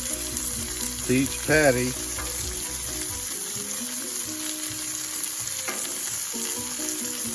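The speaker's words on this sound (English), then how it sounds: "we're gonna add our vegetables, our onions and peppers" Onions and peppers sizzle in a pan alongside burger patties, with a steady close sizzle and occasional stirring clinks, while someone speaks briefly over it.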